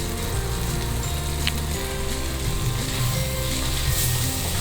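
Cooked basmati rice is mixed into tomato masala in a pan for tomato rice, with a continuous dense sizzle throughout and soft stirring movements underneath.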